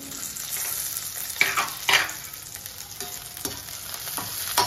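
Curry leaves frying in hot oil for chicken 65, a close, continuous crackling sizzle with a few sharper pops and spatula scrapes in the pan, with no talk.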